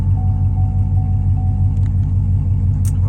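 A used 2022 Chevrolet Camaro 2SS 1LE with about 40,000 miles idles with a loud, deep exhaust rumble, steady and close up, with a faint whine over it and a brief click near the end.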